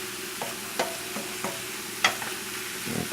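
Hot sausage fries in a pan, a steady close sizzle broken by several scraping stirs and clinks of a utensil against the pan.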